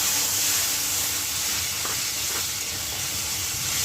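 Curdled yogurt sizzles in a hot pan while making egg puri, a steady broad hiss with faint stirring and no talking.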